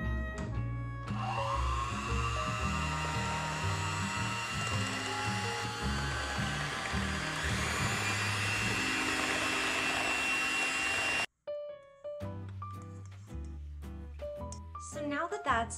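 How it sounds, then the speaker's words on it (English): An electric mixer on a medium setting whisks gluten-free, dairy-free apple muffin batter until fluffy. A steady mechanical whir runs for about eleven seconds under background music, then stops and the music carries on alone. "we are just going to whisk this until it becomes fluffy. So we're gonna be doing this on whatever your medium setting is"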